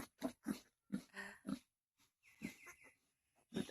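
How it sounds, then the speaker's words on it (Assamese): Newborn piglets, born overnight, squeal and grunt in short bursts close by, a series of high, squeaky cries with brief pauses between them. "এইবিলাক গাহৰি পোৱালি হয়"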